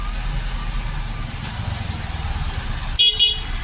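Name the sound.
car horn honking in traffic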